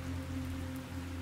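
Steady light rain falling on a surface, a constant close hiss with a low hum beneath it and no breaks or voices.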